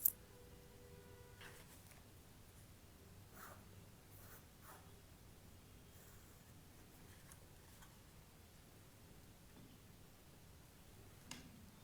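Pen tip writing on a sheet of paper, soft scratchy strokes and small ticks coming in short bursts, faint and close in an otherwise quiet room with no talking.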